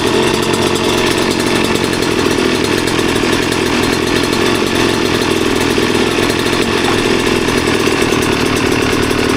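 A Kawasaki KX 112 two-stroke dirt bike engine runs steadily after being kickstarted, a loud, continuous buzzing drone that holds close and unbroken for the whole stretch with no voices.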